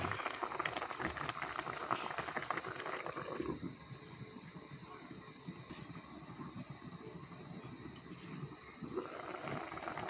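Tilapia simmering in coconut milk in a pot, a steady bubbling, boiling wash that runs throughout, louder at first and then settling into a softer, continuous simmer.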